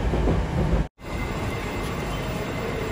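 Moscow metro train running through the underground, a loud, steady rumble and roar throughout with a brief cut of near silence just before the first second, no talking.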